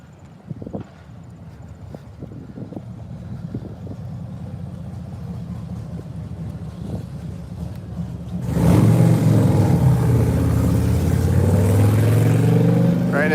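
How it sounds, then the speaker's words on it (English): A motorcycle approaches and passes close by at night near a building, its engine rising into a loud roar over faint background rumble and wind. "Motorcycle."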